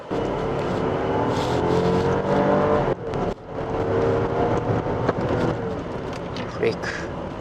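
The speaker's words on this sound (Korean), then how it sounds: "이 롤스로이스 레이스라는 차량은 6000cc가 넘는 고배기량의 차량이기 때문에 엄청난 성능을 보여주는 엔진이라고 볼 수 있을 것 같은데요" A Rolls-Royce Wraith with an engine over 6000cc pulls away hard, its deep, steady engine roar loud and continuous with a brief dip midway, while a person talks over it.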